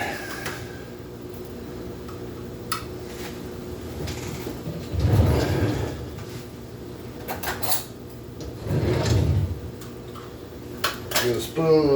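Metal cutlery clinks and a container of tomato-based steak marinade is handled and opened, making scattered kitchen clatter with two louder bursts of rattling, close by at moderate volume over a quiet room.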